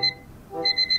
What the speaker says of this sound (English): You see this right here, the in-stock alarm.